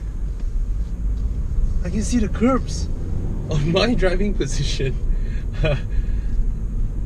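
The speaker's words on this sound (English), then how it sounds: "I'm now caught up in the traffic jam" From inside a 2016 Subaru Levorg stuck in a Malaysian traffic jam, a steady low road and engine rumble hums beneath someone talking close by.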